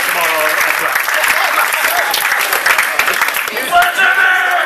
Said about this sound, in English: Please give a final round of applause for our guests.